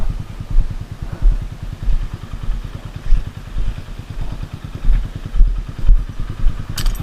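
Honda Beat scooter engine running close by, a low pulsing putter with rhythmic thumps and light clatter recurring every second or so, steady in level with no talking.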